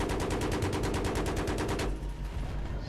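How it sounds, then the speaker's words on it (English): Rapid automatic gunfire in the video game Battlefield 3, a steady burst of evenly spaced loud shots lasting about two seconds, then stopping. "Still seeing a little tracer fire from some."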